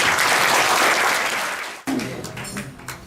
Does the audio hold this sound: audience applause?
yes